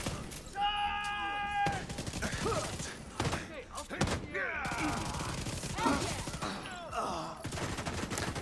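Video game combat with explosions and gunfire: heavy bursts, thuds and rapid shots pile up over several seconds, with occasional synthetic tones and a voice talking in places.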